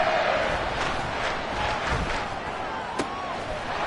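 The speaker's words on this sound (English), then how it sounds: "Now this crowd is making an impact right now." Stadium crowd noise from the video game Madden 24, a steady dense roar of cheering that holds throughout at moderate loudness, with a few brief sharp accents rising out of the wash.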